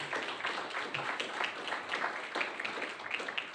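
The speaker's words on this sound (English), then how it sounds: "please give the city of Pleasant Hill an applause" Steady applause from a morning forum audience in Pleasant Hill, a dense wash of many hands clapping at moderate volume throughout, with no voices over it.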